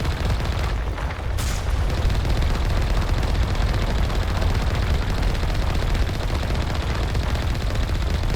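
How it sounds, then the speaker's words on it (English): A ship's main cannon firing in the video game Mass Effect, with dense continuous booming and rumbling blasts at a loud, steady level and no speech. "Almost hit it with the main cannon."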